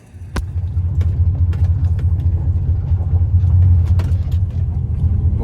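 A car is driven on the road after a junkyard sunroof install, its low engine rumble steady and close with a few light clicks and rattles above it, no talking.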